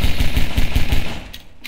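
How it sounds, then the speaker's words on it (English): Rapid pistol gunfire in Half-Life 2 Episode Two, a quick run of about six close, loud shots at an even rhythm, then fading, with no voices. "Oh, I got a pistol now."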